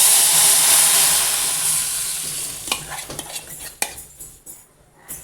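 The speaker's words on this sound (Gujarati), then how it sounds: "આ રીતે હલાવી અને છાશને નાખી દેવાની" Buttermilk poured and stirred into a pot of Gujarati kadhi thickened with gram flour: a loud steady rushing wash that fades, followed by several sharp spoon-on-pot clinks and scrapes.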